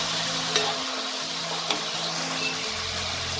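Turmeric and cumin powder being stirred into a cooking pan for a Bengali bottle gourd dish with fish head, a soft steady sizzle with a couple of light scraping knocks, close and wordless.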